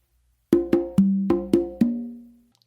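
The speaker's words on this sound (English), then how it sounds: "So to put that together in both perspectives with 2 or 3 congas, it's going to sound like this." Six sharp open-tone conga strikes across two or three drums ring out in a quick uneven pattern, each decaying with a resonant pitched tone, close and alone.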